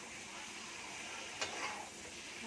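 Chicken pieces sizzle and fry with spices in a pan for biryani, a steady close hiss with a faint stir or scrape partway through, no talking.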